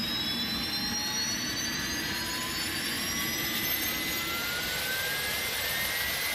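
Steady, loud jet engine roar from an iniBuilds A300-600R airliner in the X-Plane 11 flight simulator, with rising turbine whines sweeping upward over a constant broadband rush, no talk.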